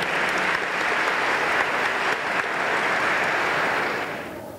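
Sustained applause from the audience at the 2017 Best Companies awards ceremony, steady and dense throughout before tapering off at the end, with no speech.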